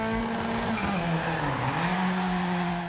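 Subaru Impreza STI rally car in the Dirt Rally 2 video game, its engine droning loud and steady with pitch dipping and rising through gear changes, tyres scrabbling and skidding over the stage surface.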